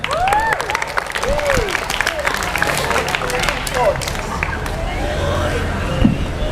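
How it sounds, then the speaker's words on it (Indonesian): A school morning assembly crowd applauds a student: rapid scattered handclaps over the hubbub of children's voices, moderately loud and continuous, with a brief louder knock near the end. "Tepuk tangan untuk El"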